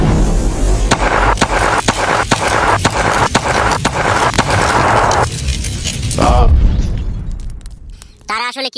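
Cartoon gunfire rattles in a rapid string of sharp cracks against a roaring wash, then cuts to whooshing sweeps and laser-like zaps as an alien attack unfolds.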